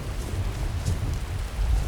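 Steady video game rain falling with a soft low rumble underneath, continuous and even, no voices.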